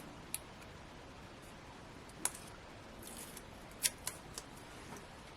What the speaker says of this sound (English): they are quite wide, so I am going to be cutting them down